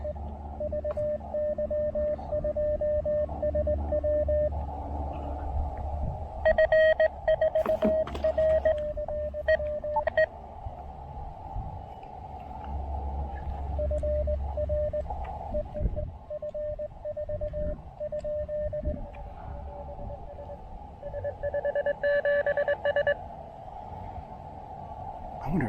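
Morse code CQ call tones beep in keyed bursts of dots and dashes over radio static and a low steady hum, continuing in a repeated calling pattern, from an Elecraft KX2 transceiver outdoors.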